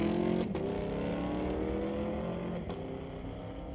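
Drag racing cars, including a 2018 Camaro, at Mission Raceway Park: a sustained loud engine roar with a steady drone throughout, a couple of brief sharp transients along the way.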